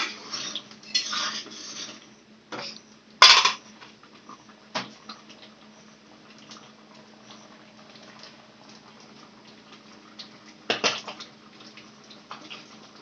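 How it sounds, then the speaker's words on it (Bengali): Water boiling in a pot while vegetarian ghugni cooks, a faint steady bubbling simmer broken by occasional clinks and clatters of utensils. "ফুটে গেল জল ফুটে উঠেছে"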